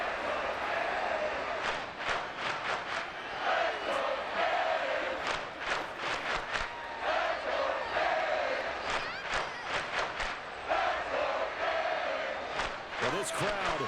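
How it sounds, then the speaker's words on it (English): Football stadium crowd at a Miami Dolphins vs New York Giants NFL game, roaring and cheering steadily at a distance beneath continuous play-by-play commentary, with sharp bursts of noise punctuating the crowd. "This crowd into it now."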